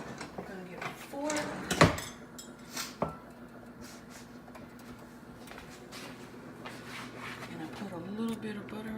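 Someone fetching a fork for homemade pancakes, with a few clinks of cutlery and a dish, one sharp clatter, then soft handling noises under a steady low hum.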